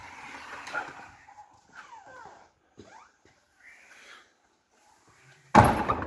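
The very old wooden door of St Peter's church in Portesham, Dorset, creaks open in several drawn-out squeaking groans, ending with a sudden loud bump or rustle close by.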